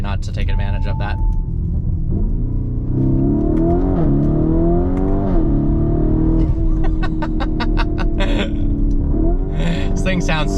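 A 2023 Lamborghini Urus S engine accelerating hard along a road, a loud steady rumble rising in pitch through the gears, with brief tonal blips near the end.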